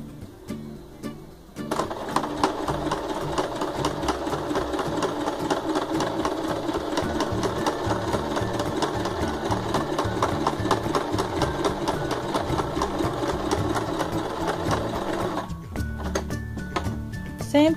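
A sewing machine stitches fabric for a Halloween candy bag, running in one long steady burst with a rapid rhythmic needle chatter, quiet handling sounds at the start and end.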